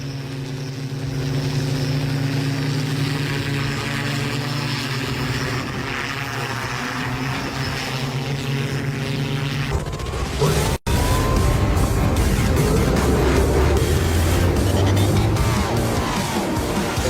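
A Dubai police flying bike hovering during training, a loud continuous droning engine and rotor roar that shifts into a harsher, more turbulent buzz partway through, with a brief dropout before it resumes strongly.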